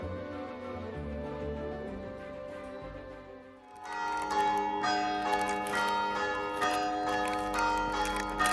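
Abbey church bells ring out, a steady low sustained tone at first, then a fuller peal of several bells striking in overlapping rhythm, loud and resonant in the open air.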